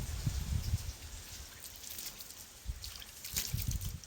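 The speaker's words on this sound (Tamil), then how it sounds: "தண்ணி ஊற்றக்கூடாது, அப்படியே தெளிக்கணும்." Water is sprinkled onto coir pith compost, giving soft patters and trickling splashes in short bursts, quiet and close, with gaps between.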